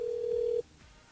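A telephone rings once on an outgoing call to a radio station's switchboard, a single steady tone that cuts off partway through, followed by quiet line noise.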